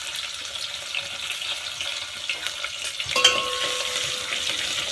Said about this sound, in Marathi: कांदा असा छान लालसर परतून घेऊ।